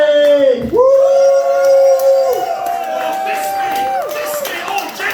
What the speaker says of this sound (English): whoop and cheer for Big D!